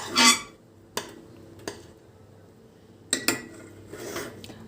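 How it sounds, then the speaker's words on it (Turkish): Thick vanilla custard is stirred in a pot with a spoon. A few scattered scrapes and metallic clinks sound against the pot, close and moderately loud, with quiet pauses between and no speech. "vanilyamızı döküyoruz karıştırmaya devam ediyoruz"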